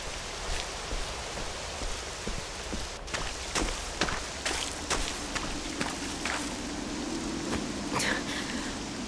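Steady rain hiss falls across an Octopath Traveler II scene, with a run of sharp, footstep-like taps and drops breaking through at an even, moderate level throughout.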